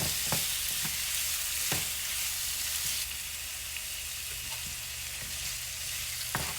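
Shrimp sizzling in a pan with tomatoes, a constant bright frying hiss with a few sharp clicks of utensils against the pan.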